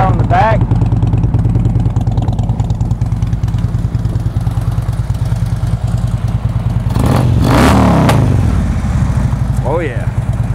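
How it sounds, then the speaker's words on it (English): A Harley-Davidson Ultra Limited with Bassani exhaust idles with a steady deep throb, then revs up sharply around the middle before settling back; the engine is close and loud throughout, with someone talking over it. "Those Bassanis give it a really nice, deep, throaty sound."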